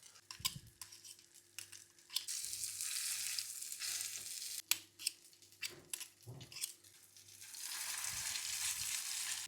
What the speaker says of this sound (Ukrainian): Коли виставили котлетки на сковорідку, смажимо приблизно 4 хвилинки з кожної сторони.